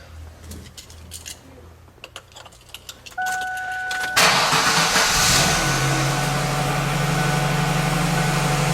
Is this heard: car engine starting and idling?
yes